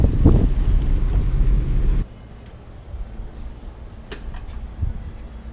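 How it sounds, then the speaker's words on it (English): Wind buffets the microphone outdoors on a university campus in Alpine, Texas, a loud low rumble for two seconds that drops to a softer steady gusting with occasional bumps. "Might be too windy on here,"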